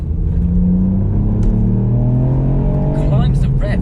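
A Ford Fiesta ST MK8 engine revs in repeated rising bursts, loud and close, with a steady drone and a sharp climb near the end, while people talk over it.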